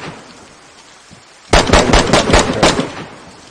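Automatic gunfire in the video game DayZ erupts suddenly after a quiet stretch, a rapid burst of several sharp, loud shots lasting about a second and a half before fading.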